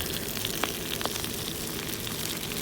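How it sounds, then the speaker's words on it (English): Chard leaves sizzling in hot oil on a grill, a dense, steady crackle and hiss with a few sharper pops, close up and continuous. "I'm going to add some oil and then throw in the leaves from the chard"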